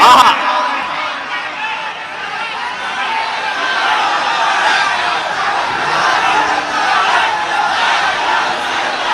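A large crowd of religious devotees cheering and roaring together, a sustained dense wall of voices that stays loud and continuous throughout.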